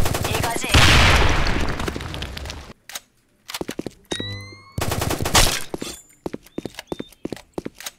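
Sudden Attack gunfire: a loud burst of sustained shots early on, then clusters of short sharp cracks with brief gaps, mixed with game effects and spoken voices.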